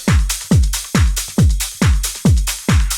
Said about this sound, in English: Altogether, the drums sound like this.